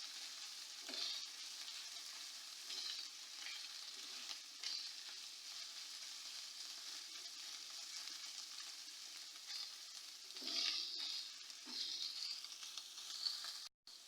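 Chicken sizzles and fries steadily in oil in a pan, with a low continuous crackle and occasional louder bursts of stirring, all close by and with no talking.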